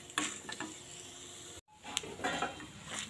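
Lentils and dried red chillies dry-roasting in a pan, a soft continuous rustle and scrape as they are stirred, with light clinks of a spoon on the pan and a brief gap midway.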